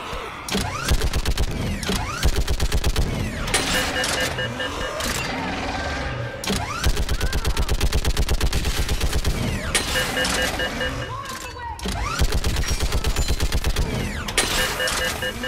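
Rapid bursts of gunfire from a mounted gun in the video game Mass Effect 3 hammer on almost continuously, loud and close, with brief lulls and mechanical clatter between volleys.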